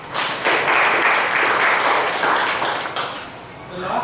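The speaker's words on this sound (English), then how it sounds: "A big round of applause." Applause from an audience at a Toastmasters club meeting swells into a steady, dense patter, holds for a few seconds, then thins out as a voice starts near the end.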